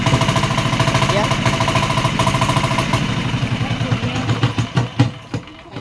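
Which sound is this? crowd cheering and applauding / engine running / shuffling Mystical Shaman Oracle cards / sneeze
engine running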